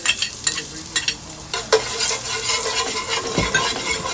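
Garlic fries in a pan with a bright, steady sizzle, broken by a few utensil scrapes and taps as it is stirred nearby.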